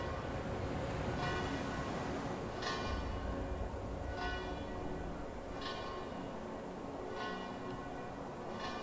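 Church bells toll in a steady rhythm in the video game Frostpunk: The Last Autumn, each strike about every one and a half seconds, ringing out over a constant low rumbling game ambience.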